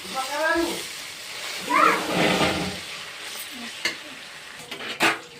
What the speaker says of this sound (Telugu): నేను ముక్కలు వేగినవి అల్లం పేస్ట్ వేస్తున్నాను